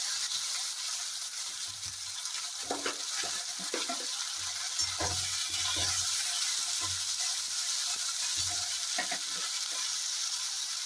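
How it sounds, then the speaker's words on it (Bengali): Chopped onions and tomato frying in a pan for mutton curry, a steady broad sizzle throughout with occasional low stirring knocks and scrapes, no voices. "এবার পেঁয়াজগুলোকে আমি একটু লাল করে ভেজে নেব।"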